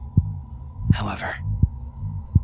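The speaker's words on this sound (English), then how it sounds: "the heart beat on with a muffled sound." A muffled, low heartbeat sound effect thumps at a slow, even pace, four soft beats under a steady hum, with a brief whispery breath in the middle, during a reading of The Tell-Tale Heart.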